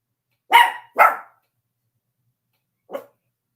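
Dogs barking: two sharp, close barks in quick succession, then a single fainter bark after a pause, with silence around them.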